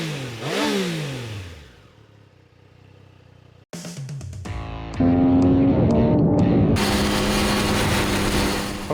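A Triumph Daytona 660 sport motorcycle engine cranks and fires up, then revs loudly and steadily close by, with a few sharp throttle blips over a strong idle.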